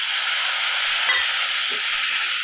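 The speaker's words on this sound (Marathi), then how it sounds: "तर आता हे गुळ या कढईमध्ये घालून घेऊया आणि 1 चमचाभर पाणी घालूया" Half a kilo of jaggery with a spoonful of water heats in a kadai, giving off a loud, steady broadband hiss of sizzling and steam that runs unbroken throughout.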